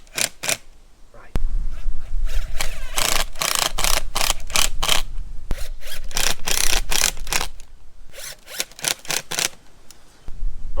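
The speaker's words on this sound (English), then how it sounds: "All I'm going to do now is screw it." A fixing is screwed down during a brick pizza oven build, over the firebrick floor and insulation stage, heard as a run of short, loud mechanical bursts with brief pauses between them, close by.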